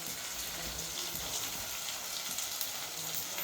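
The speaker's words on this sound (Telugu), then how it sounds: "ఇవి బాగా నూనెలో వేగాలి." Carrots fry in hot oil in a pan for upma, a steady close sizzle and crackle with a rain-like hiss throughout, with no talk.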